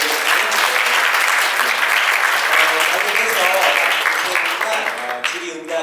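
Audience at an invited lecture by the head of a small and medium business research institute breaking into sustained, dense applause that fills the room, fading slightly at the end as a voice starts over it.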